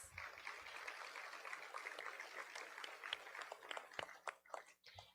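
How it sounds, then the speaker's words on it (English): Audience applause at a staff of the year awards event, a steady wash of many hands clapping at moderate distance that carries on and thins out toward the end. "Let's give another round of applause to our nominees."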